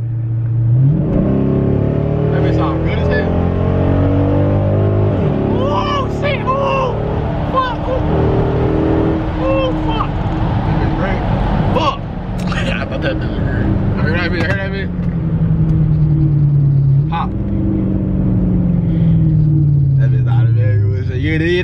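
A tuned SRT8 Dodge Charger Super Bee revs loudly with rising and falling engine pitch as its tires spin, heard close up under excited talking throughout.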